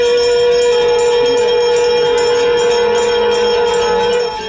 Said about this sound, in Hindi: मंदिर में शंख और घंटे की पवित्र आवाज